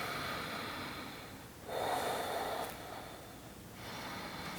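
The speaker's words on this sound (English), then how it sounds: "taking a few breaths here" Slow, audible breaths during a gentle floor yoga pose, a soft inhale-exhale swell in the middle of a quiet stretch with faint room hiss, close and alone.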